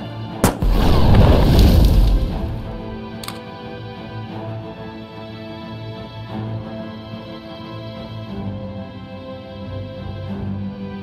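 In the VR video game Wanderer, a sharp loud boom of gunfire opens with a long rumbling roar, followed by a fainter second crack and a low, steady game backdrop with soft ticking.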